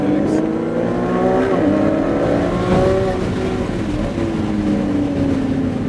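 A race car at Sonoma Raceway accelerates hard on track, with a steady, loud engine drone whose pitch climbs and shifts as the throttle is rolled on, close and continuous throughout.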